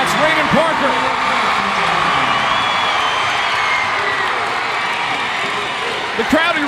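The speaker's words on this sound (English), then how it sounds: "The crowd erupts for the Wildcats on that big Raymond Parker three-point make" A packed crowd at a boys' high school region championship basketball game roars steadily for a Wildcats three-pointer late in the game, with voices and shoe squeaks mixed into the sustained cheering.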